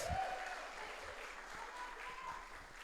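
Church congregation applauding during a Portuguese-language service, a steady broadband wash of clapping lasting the whole stretch at moderate level, with faint voices underneath.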